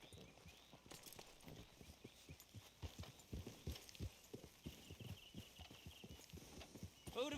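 Horse hooves clip-clop steadily in Red Dead Redemption 2, a regular walking rhythm of soft, distinct thuds, fairly quiet under ambient game sound.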